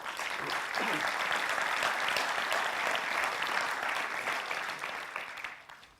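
A congress audience breaks into sustained applause at a regional inauguration, dense hall-filling clapping that holds steady for several seconds before tapering off, with faint voices mixed underneath.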